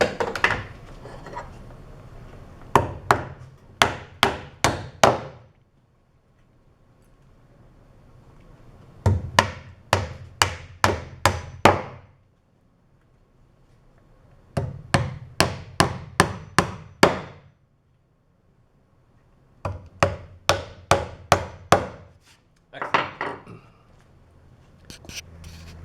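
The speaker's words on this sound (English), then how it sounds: "you can take the clamp off to find it easier to nail in the rest of the nails." Nails driven into lumber for a trebuchet base, in four bursts of rapid, sharp hammer blows, about five to seven strikes each, close and loud, with short pauses between.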